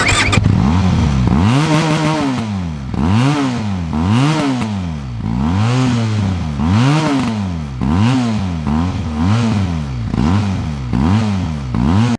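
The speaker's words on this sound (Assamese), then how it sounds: "এতিয়া Benelli TRK খনৰ একজষ্ট সাউণ্ডটো শুনোৱা হওক" A Benelli TRK 502X motorcycle engine revs repeatedly through its exhaust, rising and falling in steady loud bursts about once a second, close by with no talking.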